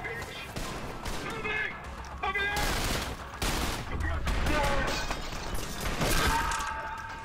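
Gunfire in the first-person shooter Trepang2, including a pump-action shotgun, with several sharp loud blasts spread across the span and speech over them.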